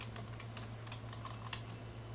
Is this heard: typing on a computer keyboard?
yes